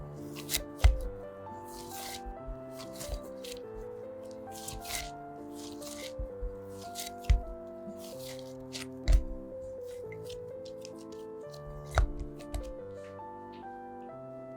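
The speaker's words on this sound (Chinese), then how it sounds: "这时候用手稍微揉几下，" Hands briefly kneading soft, risen no-knead bread dough made from all-purpose flour, giving soft, squishy slaps and presses at irregular intervals, close up, over quiet background music.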